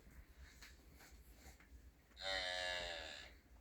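A dairy cow lets out a single deep, fairly loud moo lasting about a second at a cattle market in January. It rises over a quiet background of faint rustling.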